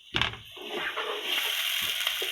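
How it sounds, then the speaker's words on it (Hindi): A splash of water poured into a hot pan of frying spices, green chili and tomatoes gives a sharp burst and then a loud, sustained sizzling hiss that settles into steady bubbling. "कम से कम भी इसमें 1 या 2 टेबल स्पून पानी शामिल कर रहे हैं ताकि इसको हम भून सकें"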